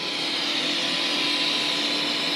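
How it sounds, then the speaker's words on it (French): Welding along the sides of a metal aileron for a taxi roof sign produces a steady, loud, unbroken buzzing hiss with a faint whine on top, close up and with nobody speaking. "Donc là on soude les côtés."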